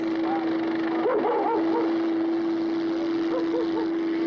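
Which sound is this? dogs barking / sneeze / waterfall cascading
dogs barking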